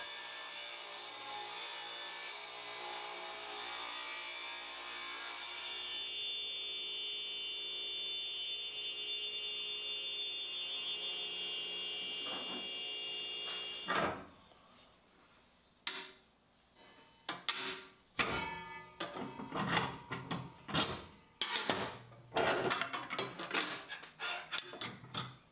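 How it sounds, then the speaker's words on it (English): Saw cutting wooden night stand sides to a length of 16 inches: a sustained machine whine for the first half, then a series of sharp, irregular rasping and clattering bursts close by. "Now we'll cut the sides down to their final length of 16 inches."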